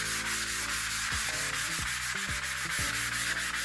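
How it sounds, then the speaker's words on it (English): A fine 400 grit sanding sponge wipes lightly back and forth over a furniture surface, a soft continuous rhythmic rubbing hiss, close and steady, with faint low tonal hum beneath. "I'm going to very lightly sand my surface to make it nice and buttery smooth."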